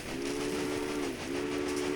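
A pure freight train rumbles steadily along the line in the railroad strategy game Railway Empire, a continuous close mechanical drone with a sustained whistle-like tone that dips briefly and returns.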